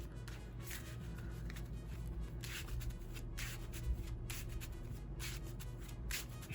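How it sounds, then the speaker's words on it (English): Yu-Gi-Oh cards being shuffled in a deck, a steady run of soft papery riffles and rubbing bursts close up over a low background hum, with no voices. "Shuffle, shuffle."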